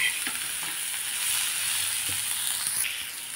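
Onions sizzle steadily in a hot pan on medium heat for a Khandeshi bitter gourd curry, a continuous bright frying hiss with a few faint stirring taps and no talking.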